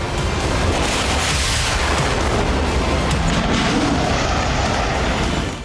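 Missiles are fired and explode at sea, a dense, continuous roar of blasts and rumbling booms layered over one another, loud and sustained, with no talk.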